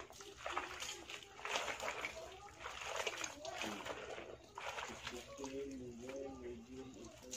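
Water splashes and sloshes steadily as laundry is rinsed by hand in a basin, with close wet slaps throughout and a voice talking over it.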